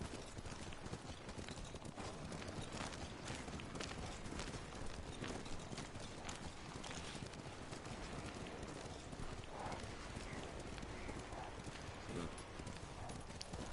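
Steady clip-clop of horse hooves trotting at an even pace in Ghost of Tsushima, continuous and fairly loud, with a dense layer of game ambience underneath.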